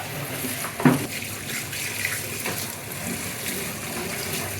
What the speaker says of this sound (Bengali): ওই শাকগুলোকে ভালোভাবে ধুয়ে নেব